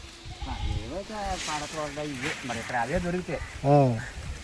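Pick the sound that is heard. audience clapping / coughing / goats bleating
goats bleating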